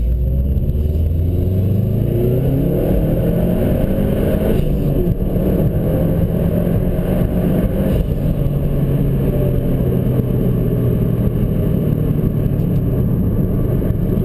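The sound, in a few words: 2011 Subaru STI engine during spirited driving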